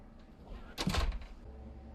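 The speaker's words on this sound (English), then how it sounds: "Oh, he shut the door on his face." A door is shut in a scene from the film All of Us Strangers: one brief, dull thud lands midway through a quiet stretch of room tone.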